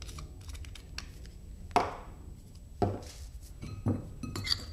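Spoon measuring photo emulsion and sensitizer into a container, giving three or four sharp, spaced clinks and taps against the vessel amid low background noise.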